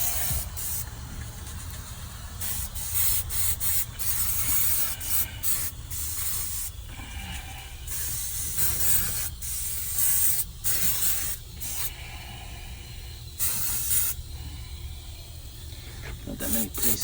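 Tintable bed liner coating is sprayed onto a truck in repeated hissing bursts of a few seconds each, close and fairly loud over a low background rumble, with someone speaking quietly at times.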